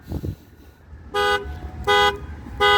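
A 2014 Ford Fiesta's factory alarm blares the horn in three long, evenly spaced honks, loud and close, with brief thumping noises before the first.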